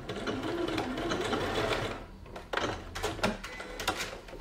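A sewing machine stitches a backstitch on a reversible fabric drawstring pouch. Its needle chatters rapidly and continuously up close, then breaks into short stop-start bursts with clicks as the seam is reinforced.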